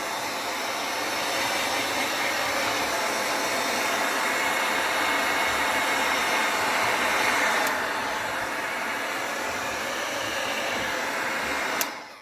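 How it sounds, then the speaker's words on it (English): A hairdryer blows hot air onto a fridge door seal in one loud, steady roar for several seconds, then cuts off at the end. "grabbing a hairdryer, if you've got one, or a heat gun, but preferably a hairdryer"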